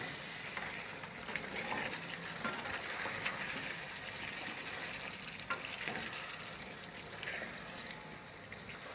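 Potatoes go into a pot of chicken yakhni pulao, setting off a steady, soft sizzle and frying hiss that runs evenly throughout without a break.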